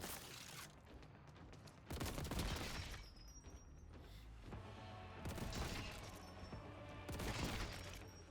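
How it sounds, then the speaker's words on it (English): A heavy bolter in Warhammer 40k Boltgun 2 firing loud sustained bursts of rapid booming shots that come in repeated waves with brief lulls between them. "heavy bolter still does heavy bolter things"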